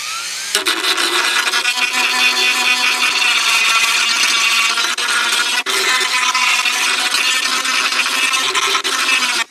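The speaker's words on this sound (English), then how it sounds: "This is a carbide cutter." A carbide cutter on a power tool grinds oil-soaked plastic from a damaged Kawasaki Ninja motorcycle fairing, a loud, steady, continuous rasping whine that runs almost the whole time with one brief dip midway.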